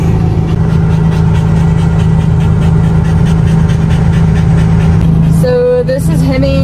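A cattle dog pants steadily and quickly, close by, over a loud, constant engine hum.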